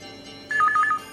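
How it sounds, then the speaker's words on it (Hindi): A telephone rings in a TV drama household, an electronic warbling ring that starts abruptly and repeats in quick pulses, fairly loud and alone with no talk over it. "कब से घंटी बज रही, किसका फोन हो सकता है?"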